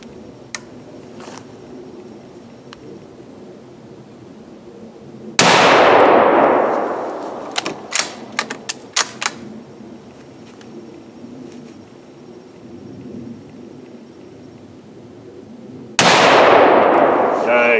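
A bolt action rifle fed from a ProMag magazine fires two loud, booming shots with long ringing decays. Between them come a few sharp metallic clicks of the bolt cycling over quiet outdoor background.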